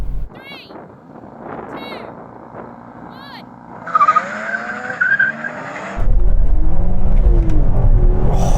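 BMW M3 cars launching in a drag race: tire squeal and rising engine revs build, then a loud sustained roar of acceleration takes over for the final seconds, close by, with voices talking over the start.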